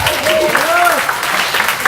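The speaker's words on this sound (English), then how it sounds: "Let's give them a round of applause." Steady clapping from a crowd at a wedding celebration fills the whole stretch, with a few whoops and cheers rising over it.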